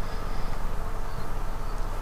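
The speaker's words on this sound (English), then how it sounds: "my cat is here purring" A loud cat purrs close to the microphone in a steady, pulsing rumble that runs without a break, alone and with no talking.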